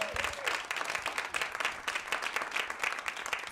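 Comedy club audience applauds comedians, dense sustained clapping from a crowd filling the room at steady strength throughout.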